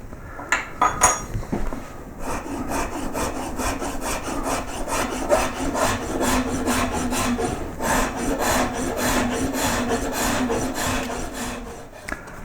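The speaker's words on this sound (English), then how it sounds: "I started the sanding with 120 and I worked through to 240 grit" Sandpaper rubbed against a wooden koi carp carving, a steady run of close, rhythmic scratchy strokes that continue with little pause throughout, with no voices.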